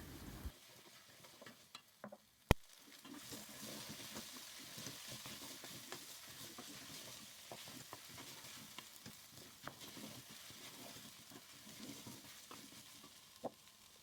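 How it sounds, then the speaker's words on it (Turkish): Biber salçası (pepper paste) with a spoonful of tomato juice fries in a pan with a continuous bright sizzle, broken by an occasional sharp tap and stirring scrape. "Evet, salçanın kokusu çıkana kadar kavuralım."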